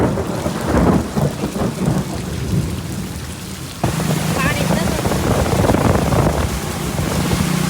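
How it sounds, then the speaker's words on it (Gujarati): Heavy rain pours steadily through a thunderstorm during a power outage, with deep rumbling thunder rolling underneath and a sharper crack midway, loud and continuous throughout. "લાઈટ વહી ગઈ. કડાકા ભડાકા ચાલ છે."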